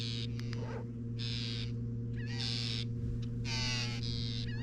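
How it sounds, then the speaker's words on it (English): Loud, repeated harsh squawking bird calls, taken for a seagull, over a still, calm marsh while sight fishing for redfish, several bursts in quick succession with a steady low hum underneath. "I've never heard that seagull call."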